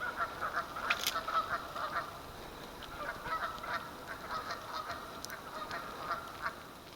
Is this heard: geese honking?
yes